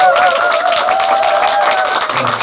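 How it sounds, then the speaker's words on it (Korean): An audience at an event applauds, a loud, dense, steady wash of clapping that fills the whole stretch, with a sustained tone and faint voices mixed in. "큰 격려와 감사의 박수 부탁드립니다"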